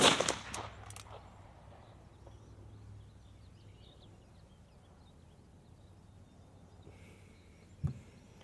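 A single loud revolver shot at a shooting competition run with 1955-era gear, sharp at the start with a brief ringing tail, followed by quiet outdoor background and faint birds, then a smaller distant pop near the end.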